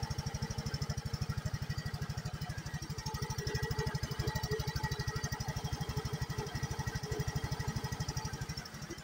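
A motorcycle engine with a freshly refitted throttle body runs steadily and loud, a rapid even chugging pulse holding throughout with a slight swell midway.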